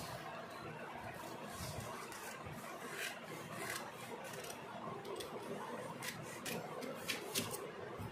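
Scissors cutting fabric for a cap sleeve pattern, quiet rasping snips and rubbing scrapes repeating irregularly close by, with faint background noise.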